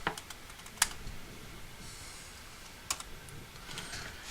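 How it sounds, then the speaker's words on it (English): Quiet typing on a computer keyboard, a few soft scattered key clicks with two sharper taps over faint background hiss. "and you type in Hacs"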